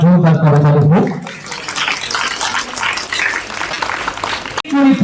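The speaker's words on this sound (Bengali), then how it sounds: "আপনাদের সকলের কাছে অনুরোধ রাখবো প্লিজ আরো একবার জোরদার করতালি হোক।" Sustained applause from an audience at a state-level student drama competition award ceremony, honouring the best actor, rising after a brief spoken announcement and filling the hall as a dense, steady wash of clapping.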